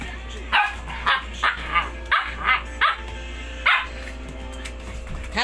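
Pet dogs bark in a series of about eight sharp, evenly spaced barks close by, over a steady low hum inside an air-conditioned room.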